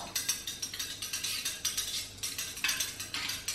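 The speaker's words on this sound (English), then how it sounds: "So I'm gonna go ahead and mix this out." Utensil scraping and clinking steadily in a container while fragrance oil is stirred into candle wax, a quick rhythmic series of soft scrapes, close and fairly quiet, with no talk.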